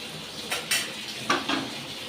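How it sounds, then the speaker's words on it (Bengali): A kadai (wok) being washed and set back on a stove gives a few short metallic clanks and knocks at close range, separated by quiet gaps. "কড়াইটা আমি ধুয়ে বসিয়ে দিচ্ছি"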